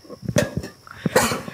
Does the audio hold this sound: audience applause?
no